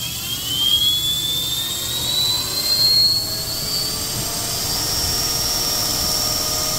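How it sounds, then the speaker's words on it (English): Metacycle electric motorcycle at full throttle in sport mode: a loud rising whine climbing in pitch under heavy wind roar, then holding steady at speed. "There's full throttle in sport mode."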